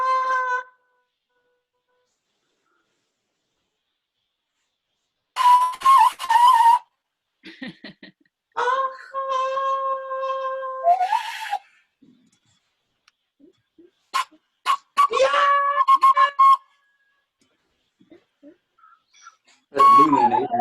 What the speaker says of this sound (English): These are 2 whistles for different, I don't know which one is which. These are made for bird watchers.